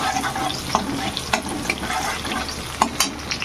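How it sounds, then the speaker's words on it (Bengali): Chopped chilies and crushed garlic sizzle steadily in hot oil in a pan, a close, continuous fry crackle broken by a few sharper pops and stirring clinks, with no talking. "মরিচটা তেলে ভাজতে বেশ ভালোই লাগে"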